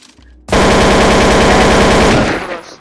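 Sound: automatic rifle firing in Counter-Strike: Source video game

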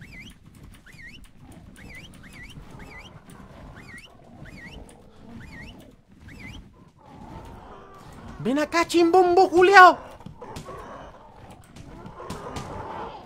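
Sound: birds in the video game Ark

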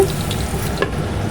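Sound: potatoes frying in a pan

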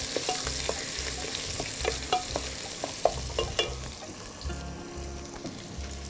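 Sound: onion and garlic mixture frying in pan

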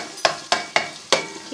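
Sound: garlic ginger paste frying in ghee

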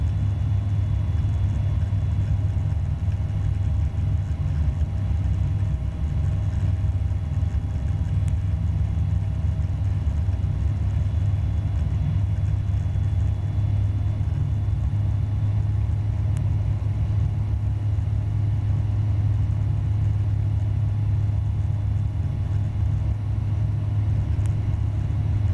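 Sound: light aircraft engine throttled up to 5,000 rpm

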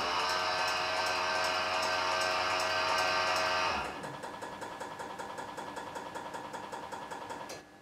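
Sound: BMW E46 ABS pump running and valve opening and closing, activated via INPA

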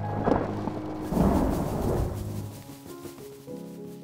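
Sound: thunder

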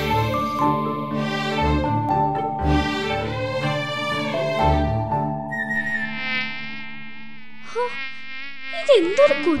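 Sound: mosquito buzzing

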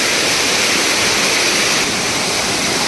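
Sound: rushing water of a jungle stream near Bhimashankar

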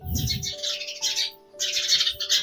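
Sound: sparrow chick chirping

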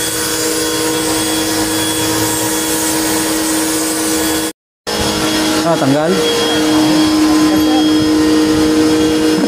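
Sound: machine running during air conditioner cleaning

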